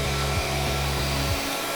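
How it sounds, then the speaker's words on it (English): A NaceCare NUC 244NX compact floor scrubber runs its vacuum motor in a steady, loud, close whine, with a few brief dips in pitch before it cuts off near the end. "took my vacuum down, my squeegee down, hit my vacuum"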